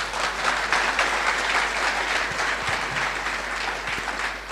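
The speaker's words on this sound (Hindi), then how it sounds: "कुछ समझ में आया तो ताली बजनी चाहिए" Audience applause at a Safe Shop motivational seminar in India, a steady dense wash of clapping filling the hall for several seconds without pause.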